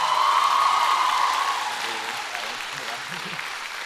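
Warm applause from a school graduation-centenary audience honoring their teachers, loud at first and then easing into a steady, softer patter with a voice faintly heard beneath.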